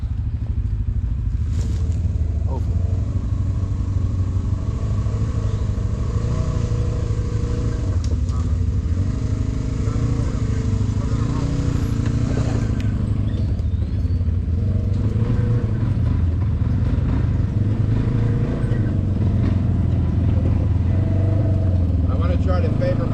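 A Polaris RZR 900 side-by-side UTV drives up a trail with a steady, moderately loud engine drone and shifting revs throughout, under intermittent talking.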